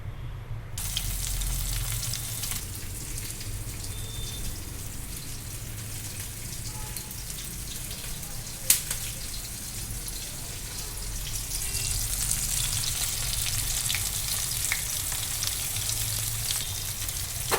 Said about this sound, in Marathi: तवा मोठा घेतला नाही एका वेळेला चार ते पाच बोंबील सहज फ्राय होतात